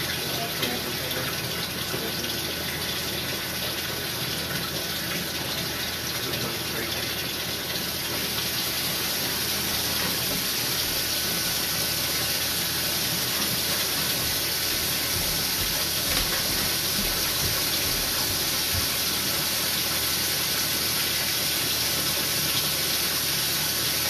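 Steady rushing water with a broad hiss runs throughout, consistent with a toilet flush and refill continuing at close range without pause or voices.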